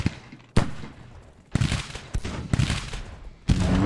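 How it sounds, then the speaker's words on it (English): Artillery guns firing in the Civil War battle game Grand Tactician, several loud booming shots in irregular succession, each with a rumbling tail, alongside distant battle noise. "But I've got guns over here that I think are firing in that direction."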